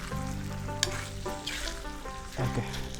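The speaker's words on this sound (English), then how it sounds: "let me give it a good mix before I add anything" Stirring in a sizzling frying dish, with steady crackle and frying hiss under a few scraping strokes of the utensil, close and moderately quiet, no voices.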